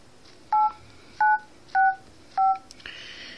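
Keypad tones from a Huawei Activa 4G Android phone's dialer, four short clear beeps pressed at an even pace, close and distinct over a quiet background, followed by a faint tap.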